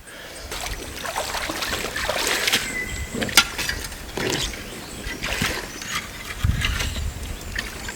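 Dirt panned for gold in water, with intermittent sloshing, swirling splashes and gritty trickles, close and moderately loud, in irregular bursts.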